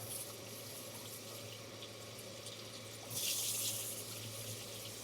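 Sparge water pours steadily onto a rice-hull mash in a commercial brewery, a constant rushing flow over a low mechanical hum, swelling briefly louder midway.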